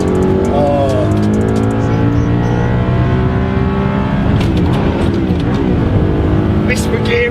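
An Audi R8 and a Bentley Bentayga accelerate side by side in a drag race, a loud, continuous engine roar climbing in pitch through the gears from close by, with people talking over the noise.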